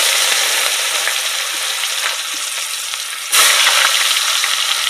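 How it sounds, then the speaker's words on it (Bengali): Dried red chillies, cumin and chopped onion frying in hot oil, a loud, steady close-up sizzle that surges abruptly brighter partway through as more goes into the pan. "তো তেলটা যেহেতু গরম হয়ে গেছে, আমি শুকনো লঙ্কা আর জিরেটা দিয়ে দিলাম,"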